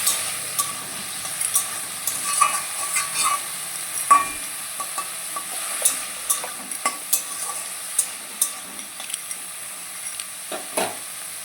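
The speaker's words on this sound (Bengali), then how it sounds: "আর দেখো ফুলকপিটা আমি ভাজা করছি" Cauliflower sizzling as it fries in a pan, broken up by frequent clicks and scrapes of a spatula stirring it. There is no talking.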